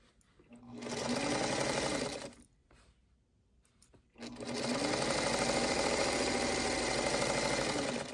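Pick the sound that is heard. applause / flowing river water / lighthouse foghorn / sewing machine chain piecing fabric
sewing machine chain piecing fabric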